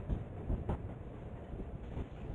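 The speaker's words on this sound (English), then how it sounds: "Last unit is the most modern, a 1965-built GP35." Santa Fe freight train led by diesel units, with a 1965-built GP35 at the rear, rolling past at moderate distance; a steady rumbling roar of engines and rail cars, with a brief louder surge partway through and no talk.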